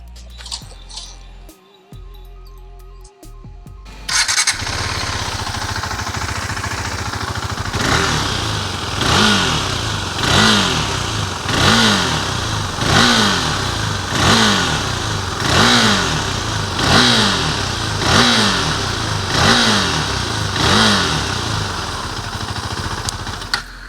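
A 2020 KTM 390 Duke BS6 single-cylinder motorcycle with a quickshifter starts up and is revved repeatedly from idle, giving a close, loud, rhythmic series of sharp blips that rise and fall about a dozen times.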